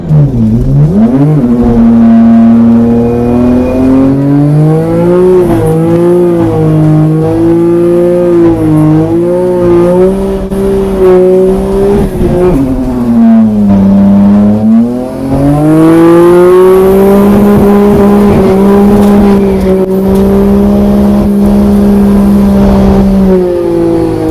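A 600 hp twin-turbo Nissan Skyline R32 GTR revs and pulls hard, its loud engine note rising and dipping through repeated gear changes, close and continuous for the whole stretch with no voices.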